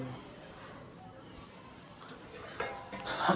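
A bowl is picked up from among the dishes in a home kitchen: quiet surroundings, then a few soft clinks and clatters of dishware near the end, fairly faint.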